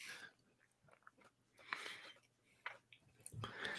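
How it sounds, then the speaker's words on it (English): Someone chews food loudly and wetly close to the microphone, with irregular crunchy bites and smacking sounds over a quiet room. "That, though, was obscene chewing."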